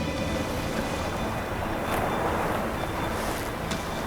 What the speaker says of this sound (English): All that ice getting crushed by the boat.